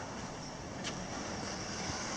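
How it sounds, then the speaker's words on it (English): Strong wind buffets the microphone outdoors during replacement of a cracked fuel filler hose on a black Mitsubishi Galant VR4, a steady broadband roar with a brief gust burst near the middle. "it's super windy right now"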